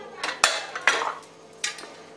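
Metal clinks and clatters as a pressure cooker of pea pulao is opened and checked, with a few sharp lid and utensil knocks close by and no talking.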